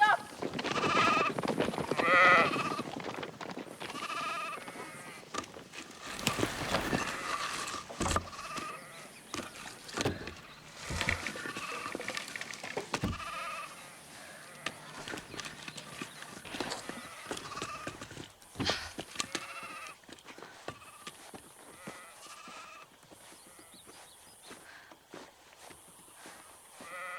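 Sheep bleat repeatedly amid a busy farmyard, with hoof clatter and someone shouting and calling out over the animals.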